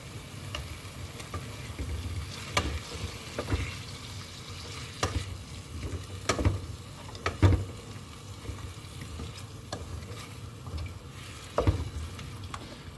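Shing fish fries in a pan for a curry, a soft continuous sizzle broken by several sharp stirring clinks and scrapes at irregular intervals.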